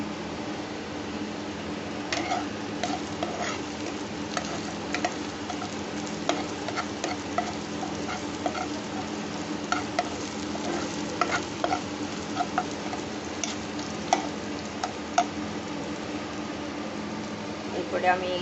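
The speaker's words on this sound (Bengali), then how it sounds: "এখন আমি একটু ক্যাপসিকাম দিয়ে দিচ্ছি," Capsicum stir-fries in a pan for cabbage Manchurian, with steady sizzling under frequent stirring scrapes. A fan hums beneath.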